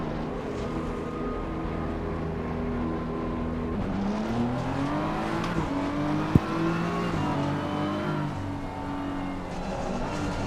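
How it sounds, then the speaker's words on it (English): A race car engine from the racing game Assetto Corsa Competizione drones loudly and steadily, its pitch rising and falling as it accelerates and shifts, with one sharp click partway through and no talk. "We'll hit drive, we'll start the engine,"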